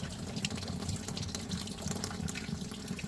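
A rock tumbler liner is rinsed under a running tap, giving a steady, faint splashing wash of water that continues without a break.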